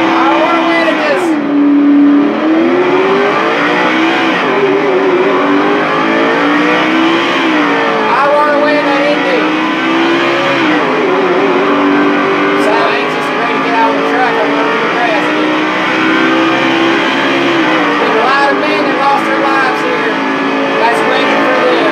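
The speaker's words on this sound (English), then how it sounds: "Today, gentlemen start their engines at Indy." Race car engines in an EA Sports video game at the Indianapolis Brickyard 400, a loud, continuous layered roar with rising and falling revs from several cars, sustained throughout.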